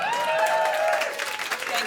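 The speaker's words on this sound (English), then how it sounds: "Pause for applause." Comedy club audience applause and light cheering for a stand-up comedian rises under a sung or spoken voice, steady for the short stretch.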